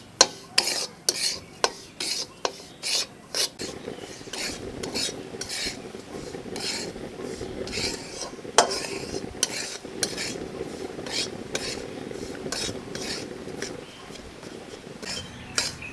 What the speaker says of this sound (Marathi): आता मीडियम फ्लेमवरती हा रवा हलका होईपर्यंत आपल्याला छान भाजून घ्यायचा आहे।